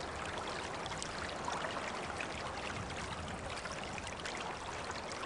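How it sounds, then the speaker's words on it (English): Steady rushing water flows continuously through a break in a beaver dam in the Rockies, a dense even wash like a stream pouring through a gap, moderately loud with no voices. "The sound of rushing water first signals a beaver to the break in the dam"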